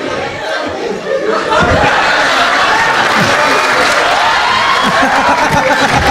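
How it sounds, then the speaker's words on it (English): A comedy show crowd breaks into clapping for a performer, beginning quietly and then swelling into loud, sustained applause mixed with scattered chuckles and laughter, close and lively. "Start clapping for Rohan one time, guys."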